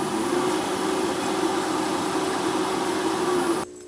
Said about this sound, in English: I'm just buffing that up a little bit.